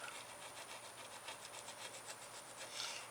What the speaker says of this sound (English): See, you can use these little plastic scrapers and not use a ton of force. You can scrape stuff like this off.